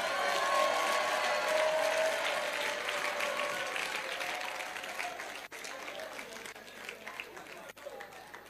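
A church congregation gives a loud wash of applause that slowly tapers off into lighter scattered clapping, with a couple of brief dropouts near the end.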